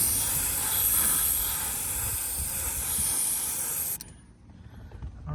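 A spray can hisses paint onto a faded Porsche 944 dashboard in one continuous, close, fairly loud burst that stops abruptly near the end, leaving near-silence, with no voices.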